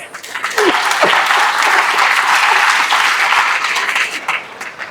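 Audience applause fills a lecture hall at Shambhunath Hospital & College in Prayagraj, a loud, dense, steady wash of many hands clapping that swells after a brief start and carries on for about five seconds.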